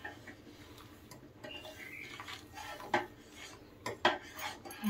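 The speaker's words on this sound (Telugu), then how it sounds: "చూడండి, ఇట్లా పోస్తూ కలుపుకుంటే గడ్డలు కట్టకుండా ఉంటుందండి." Semolina (rava) is poured into a pot of papad dough and stirred, giving soft scraping with a few sharp clinks of a spoon against the pot over a low cooking hiss. No one speaks.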